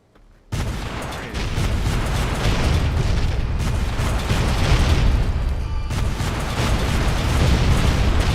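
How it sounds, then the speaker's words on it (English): Rocket fire explosions in Fallout New Vegas, a loud, continuous roar of blasts and booming impacts that starts abruptly after a brief silence and keeps rumbling heavily throughout. "He's not being bothered by rocket fire."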